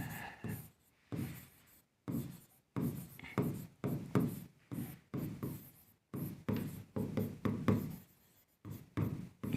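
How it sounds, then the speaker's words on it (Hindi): Chalk or marker scraping across a board in a physics lecture classroom, a steady run of short bursty strokes with brief pauses between them, close and fairly loud, no talking over it. "चलो यहाँ लिख देते हैं"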